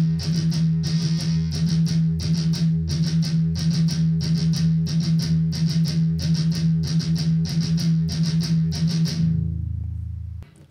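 Guitar chugs out a gallop rhythm slowly and evenly, a steady stream of close, loud, muted picked notes in repeating triplet-like groups, ending with a brief ringing fade.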